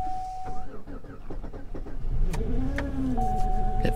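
An old scrap car at a junkyard with 133,000 miles cranks and fires up, then idles roughly and unevenly up close, with a faint chime in the background and a voice speaking briefly over it.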